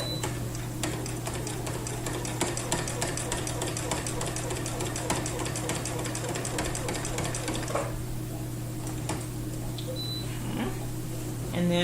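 A sewing machine stitches quilting in the ditch, its needle running in a fast, steady mechanical chatter for several seconds before stopping, leaving quieter handling sounds and a soft voice.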